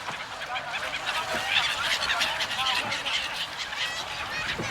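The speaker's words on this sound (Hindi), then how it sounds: "पंछी आपस में लड़ाई कर लिए खाने के लिए।" Birds at Triveni Sangam in Prayagraj squabble over scattered food during the Magh Mela, a dense, steady chorus of overlapping honking and squawking calls with no pauses.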